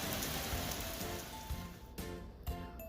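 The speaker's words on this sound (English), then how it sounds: "a little rain never hurt, right?" Steady rain patters densely on a surface near a pellet smoker cooking ribs outdoors, a constant hiss with occasional louder drips and taps, no voices.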